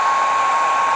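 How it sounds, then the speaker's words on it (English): A hair dryer blows steadily at close range on a 1/18 scale Cryolophosaurus figure, a continuous whooshing roar with a faint whine running underneath for the whole second. "just take a hairdryer to it for about 30 seconds to really loosen up those joints."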